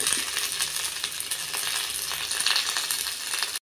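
Onion, curry leaves and green chilies hitting hot oil in a pan for a village-style Kannada basaru dish, a steady bright sizzle with occasional light clinks, no talking.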